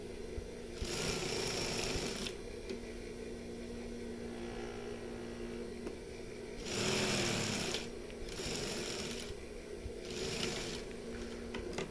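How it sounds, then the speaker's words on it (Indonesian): A sewing machine stitches a pocket in short whirring runs of rapid needle clatter, separated by quieter pauses with a low steady hum, close up and with no talking. "Nah, kita tinggal jahit aja seperti ini."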